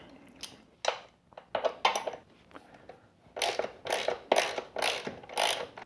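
A hand ratchet loosens the lower subframe bolts on a KLR650 motorcycle, giving bursts of rapid clicking in short strokes with brief pauses between, close and crisp in a quiet workshop.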